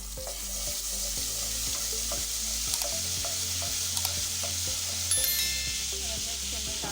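Garlic frying in oil is stirred around a pan for mixed vegetable curry: continuous loud sizzling with regular scraping, tapping strokes of a spoon against the pan, close by.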